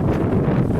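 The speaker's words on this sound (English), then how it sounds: "It's still very windy." Strong wind gusting outdoors after rain at a backyard chicken setup, a loud, rough roar buffeting the microphone for a brief moment.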